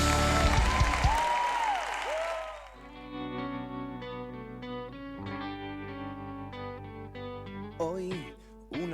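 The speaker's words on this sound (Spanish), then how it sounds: "Fuerte el aplauso al Señor" Loud, dense applause for the Lord from a Pentecostal church congregation fills the first few seconds, then gives way to sustained keyboard and music tones with a few swooping effects.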